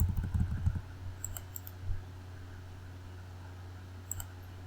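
A few soft computer mouse clicks sound in Microsoft Word, a quick cluster near the start and isolated clicks later, faint over a low steady fan hum.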